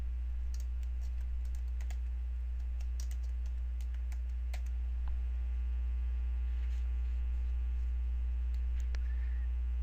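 Keys on a computer keyboard click in short irregular bursts while someone types in Microsoft Word, each tap faint and sharp over a loud, steady electrical mains hum.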